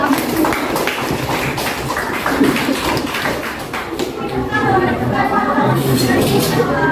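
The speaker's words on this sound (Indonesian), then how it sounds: "beri tepuk tangan untuk" Classroom applause from students during a mathematics lesson, a dense patter of clapping with some chatter, fairly loud and sustained throughout.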